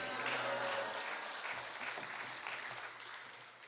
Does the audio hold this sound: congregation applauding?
yes